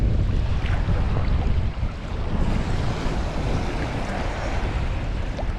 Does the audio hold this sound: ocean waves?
yes